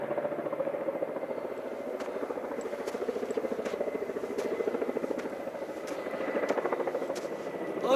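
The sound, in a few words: helicopter flying overhead near a mountain trail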